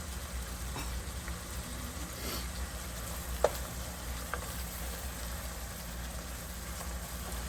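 Onions softening in a pan on the stove give off a steady, soft crackling sizzle, with an occasional sharper tick or clink, heard close and alone.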